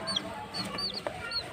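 Small chicks peep and young roosters cluck in a domestic setting, several short high chirps and soft clucks scattered across a brief moment, fairly faint against a low room background.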